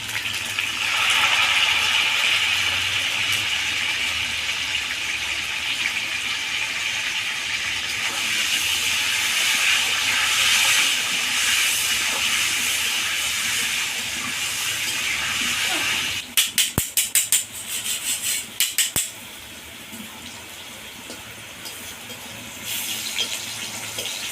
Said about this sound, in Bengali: তেল গরম হয়ে গেছে এবার আমি আলুগুলোকে ভেজে নেব